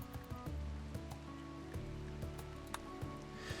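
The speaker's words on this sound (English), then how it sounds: "It's deteriorating outside. It's raining outside." Steady rain falls outside in a survival video game, a constant wash of noise with faint plinks and thin tonal game sounds layered over it, no voices present.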